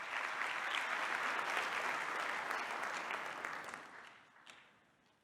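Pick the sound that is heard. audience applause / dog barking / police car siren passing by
audience applause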